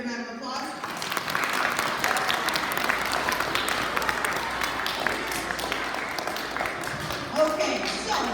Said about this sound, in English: Give Riker a big round of applause.